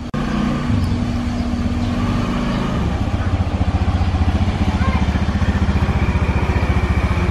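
A scooter ridden for the first time on a road in Bali, its small engine putting out a steady, close, rhythmic putter that stays loud and continuous throughout.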